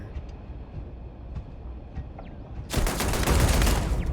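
Turret gunfire in Starfield opens up after a quieter stretch of ambient hum and small clicks, breaking into a sustained, loud, dense burst of rapid shots that continues to the end.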